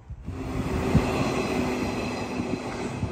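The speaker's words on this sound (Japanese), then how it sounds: "115系、かぼちゃ色の懐かしい車両が通過をしてきました。" A pumpkin-coloured JR 115 series electric train rumbles past nearby, steady roar with rhythmic clacks of wheels over rail joints, continuous for the whole stretch.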